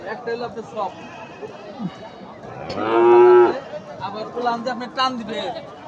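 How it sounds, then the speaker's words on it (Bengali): Young crossbred calves at a busy village cattle market, bellowing in a loud, close moo near the middle among fainter bleats, with people talking and chattering throughout. "এই যে এখানে বেশ কয়েকটা বাছুর দেখা যাচ্ছে"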